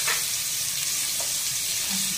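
Meat searing in a hot pan seasoned with kabsa spices, a steady close sizzle and crackle filling the whole stretch with no talk over it.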